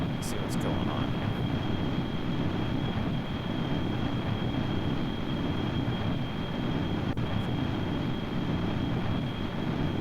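A jet engine drones steadily in Kerbal Space Program, a loud continuous roar with a fixed high whine on top and no change in level, heard under a speaking voice.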